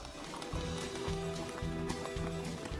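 A Paso Fino horse being ridden, its hooves striking in a quick, even clip-clop rhythm over a constant background hiss, moderately close and fairly quiet.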